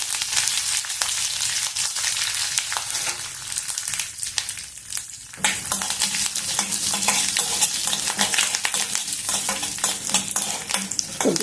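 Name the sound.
chana dal, urad dal, chili, curry leaves, cashews frying in pan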